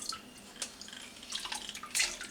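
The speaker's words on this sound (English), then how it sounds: "I'm going to put my lemon in here. And I'm going to squeeze it into the water." Juice from a squeezed lemon drips into a hot ginger drink, a few faint, close, irregular splashy drips and trickles in an otherwise quiet setting.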